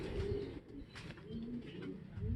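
Homing pigeon wearing a blue leg ring, back in its loft after four months away, gives soft low repeated coos close by, with faint rustling and background noise.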